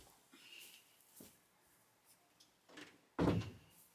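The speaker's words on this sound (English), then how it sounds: "I need to close the door" A room door closes with a single solid thump near the end, after quiet household sounds and faint movement.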